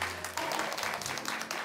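Applause from a TV studio audience after a dance stage performance, brief and steady, with faint voices mixed underneath.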